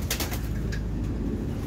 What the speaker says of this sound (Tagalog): Meaning bumaba na ibon.